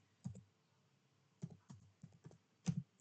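A computer keyboard clicks as a networking command is typed, a few sparse soft keystrokes in small clusters, close and quiet with no talk.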